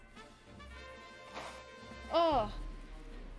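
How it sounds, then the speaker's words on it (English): A single loud sneeze bursts out mid-clip after quiet, strained breathing and a brief word, ending abruptly, close to the microphone. "One moment, I'm going to sneeze."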